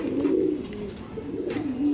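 A Kaldom pigeon coos close by in a loft, a low, rolling, continuous call that rises and falls over two seconds with no talk over it.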